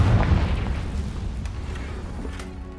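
A Confringo spell blast in the wizarding game Hogwarts Legacy, a deep rumbling boom at the start that decays slowly into a fading, rolling tail with faint crackles.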